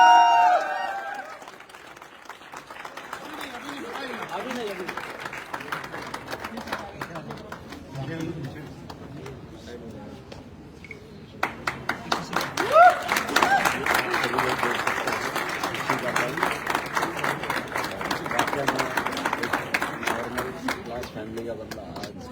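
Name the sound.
audience applause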